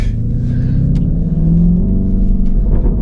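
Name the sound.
Lamborghini Urus Performante engine with Akrapovic exhaust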